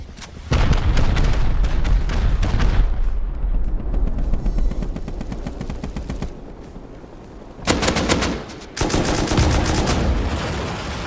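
A salvo of gunfire and explosions in the Rust video game: dense machine-gun bursts and booming blasts, loud and close. They fall in two waves, with a short lull between them.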